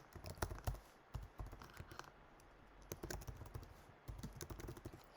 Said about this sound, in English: I can type in a username.